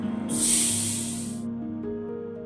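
Grated vegetables hit hot oil with a sudden bright hiss that swells then fades after about a second, leaving a low steady hum underneath, close and with no talking.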